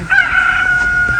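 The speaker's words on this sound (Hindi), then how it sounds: "ये तो सुबह के मुर्गा बोल रहा है" A rooster's single loud, close cock-a-doodle-doo crow held as a sustained call, heard alone without talk.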